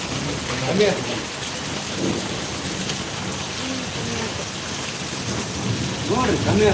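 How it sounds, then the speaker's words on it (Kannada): Heavy night rain in Davanagere, India, pours down in a dense, constant roar, with a low rumble of thunder and faint voices underneath. "ನೋಡಿ ನಮ್ ದಾವಣಗೆರೆಗೆ ಇವತ್ತಿನ ಮಳೆ ಧಾರಾಕಾರ ಮಳೆ ಹೆಂಗ್ ಬರ್ತೈತೆ"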